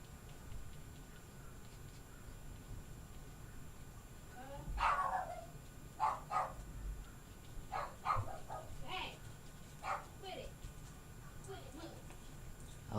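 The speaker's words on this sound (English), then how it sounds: "He's barking for a reason." A dog barks in short bursts and yips indoors at someone at the door, at moderate distance, with people talking nearby.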